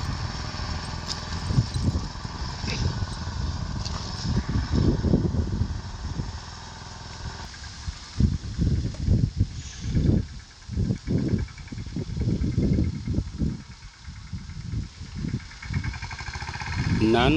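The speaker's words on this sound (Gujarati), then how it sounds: "યુવરાજ ટ્રેક્ટરથી ધાણાના પારા ફોરાય છે" A small Yuvraj tractor works a coriander field, forming raised beds with a heavy implement. The diesel engine drones low and steady with rhythmic pulsing surges, and insect chirps sit faintly in the background. No voices are heard.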